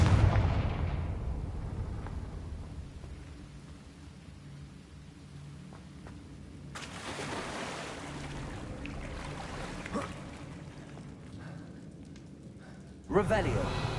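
Fiery blasts from the Confringo spell in the Hogwarts Legacy video game: a broad burst erupts partway through and another sharp blast near the end, over a low, rumbling game backdrop.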